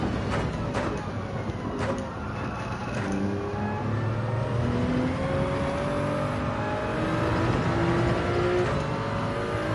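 Race car engine in Gran Turismo 7, a steady loud whine climbing through gears with rising pitch sweeps, other cars droning alongside, no talk.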